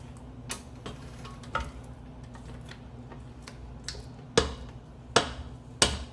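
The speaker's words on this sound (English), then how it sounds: "I am scraping my bowl" A spatula scrapes a mixing bowl of banana pudding cheesecake batter in a series of sharp, irregular scrapes and taps, several louder strokes near the end over a low background hum.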